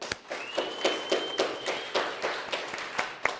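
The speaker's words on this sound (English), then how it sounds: "Give a round of applause, staff." Applause for staff at a virtual benefit evening, heard as a thin, uneven scattering of claps with taps and a faint tone, moderately quiet and without voices.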